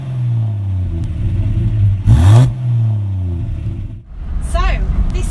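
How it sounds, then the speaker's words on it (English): A 1950s Humber Super Snipe Series 2 exhaust, heard from the rear, gives a smooth low drone that swells in two quick revs, the second after a brief dip, with some clatter and voice-like sounds over it. "here's an exhaust note for those of you that like that sort of thing."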